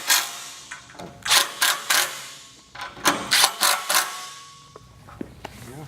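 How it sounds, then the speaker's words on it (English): Rack bolts being screwed in loosely by hand to line up pre-drilled holes on a Ryder rack bolt install, giving a series of close ratcheting, clicking bursts in quick clusters with short pauses between. "To make sure that all the holes are lined up, screwing each one in loosely before tightening down completely to ensure that you don't strip the threads."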